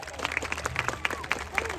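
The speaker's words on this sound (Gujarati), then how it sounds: "સૌથી વધારે તાળીઓ થઈ જાય નાનકડા બચ્ચા માટે" Audience applause for a small child at a school event in Surat, a steady patter of many hands clapping close by, with faint voices mixed underneath.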